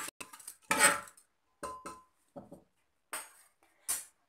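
Spoon scraping and clinking around a cooking pot as water, salt and turmeric are stirred into an egg tadka, in short separate bursts of metallic scraping with pauses between them.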